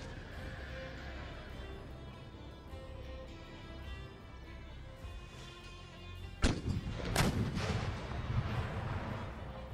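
Cannon artillery fire in the Empire: Total War video game: after a stretch of low battlefield rumble, a sharp loud blast strikes, then a second boom and rolling noise follow.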